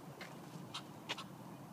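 Ducks foraging just outside a door in the morning give a few short quacks: three or four brief, faint calls spaced apart against a quiet, hissy outdoor background.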